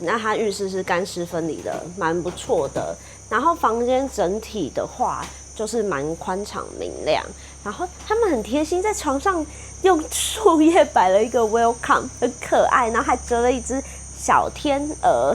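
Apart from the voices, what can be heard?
insects chirping in Malaysian rainforest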